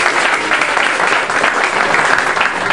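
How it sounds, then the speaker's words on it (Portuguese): An audience at a lecture applauds steadily and loudly, a dense wash of many clapping hands that continues throughout without any speech. "Vamos aplaudir o Hugo de la Riva!"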